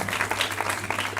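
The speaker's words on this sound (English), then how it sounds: "Give yourself one last round of applause." Brief burst of steady applause from a group at a medical school pinning ceremony, dense overlapping claps filling the moment without pause.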